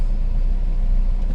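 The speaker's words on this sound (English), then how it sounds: "I'm gonna put my transmission in drive, do a nice little tug" A semi truck tractor with its transmission put in drive against set trailer brakes, giving a steady low idling engine rumble, close and constant, with no talk.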